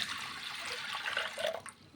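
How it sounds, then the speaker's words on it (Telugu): Water pours steadily from a vessel into washed pigeon pea dal in a cooking pot, a soft continuous splashing and gurgling that rises slightly near the end. "దీంట్లోని నీళ్లు పోసుకుందాం"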